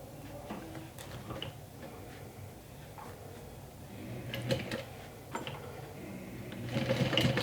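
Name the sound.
sewing machine stitching a swim tote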